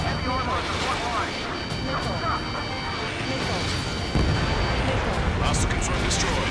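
Anti-tank missile strikes and explosions in the Ace Combat 7 video game, heavy booming blasts under continuous rumbling battle noise, with radio chatter throughout and a louder burst near the end.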